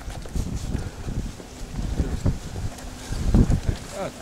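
Gusty wind blows outdoors and buffets the microphone with low, rumbling roars that swell and fade, peaking strongly near the end.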